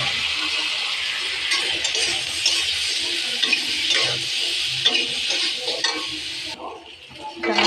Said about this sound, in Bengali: লাল লাল করে ভাজা হয়ে যাচ্ছে